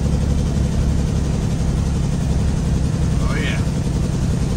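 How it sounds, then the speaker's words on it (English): Detroit Series 60 12.7-liter truck engine with a straight pipe, a loud steady rumble that runs throughout, with faint voices underneath. "If the jakes sound this good with a pipe, I can't imagine what they sound like"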